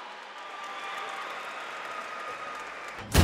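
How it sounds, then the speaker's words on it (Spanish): Audience applauding for fighter Ian at an MMA event in Monterrey, a steady distant clapping wash from the crowd ending in a sudden loud close thump. "Gracias y felicidades, aplausos para Ian,"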